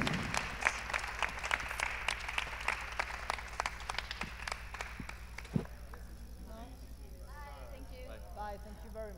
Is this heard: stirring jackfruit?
no